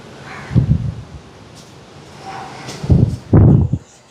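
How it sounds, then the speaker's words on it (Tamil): Strong wind before rain comes in short, loud gusts that rush and rumble, with quieter stretches between the bursts and no speech. "என்ன ஒரு காற்று."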